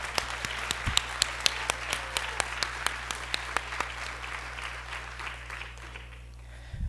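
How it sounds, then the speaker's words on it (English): A ceremony crowd applauds graduating education students at a university pinning event. Steady, dense clapping runs for several seconds over a low hum, then gradually thins and fades toward the end. "give a hand, like a round of applause for all of my peers who are like finishing a long journey as well"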